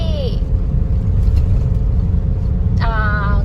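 A Yamaha Fino scooter engine holds around 2500 rpm in a steady, loud, low drone while being ridden, with brief whistling tones near the start and end.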